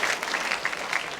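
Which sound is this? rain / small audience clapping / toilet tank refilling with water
small audience clapping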